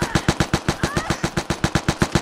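Rapid automatic gunfire from a new AK rifle in the online shooter Vigor, about fifteen evenly spaced loud shots in a steady burst, close and dominant, with faint game sounds underneath.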